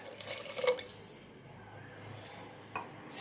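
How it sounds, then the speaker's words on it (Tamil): Water poured into ground curry paste in a clay pot for fish curry, a short faint trickle and splash, then quiet with a small clink near the end. "இப்போ குழம்புக்கு எவ்வளோ தண்ணி தேவையோ அதை ஊற்றிக்கலாம்."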